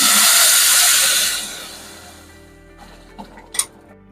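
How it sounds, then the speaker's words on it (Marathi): A loud rush of boiling water poured into a pressure cooker fades out after a second or two, followed by a few sharp metallic clinks. "आता याच्यात टाकून घ्यायचंय आहे पाणी"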